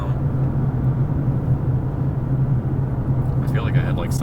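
A Lexus LC 500 sports car's engine produces a steady low rumble with a constant drone from inside the cabin, and brief faint sounds near the end.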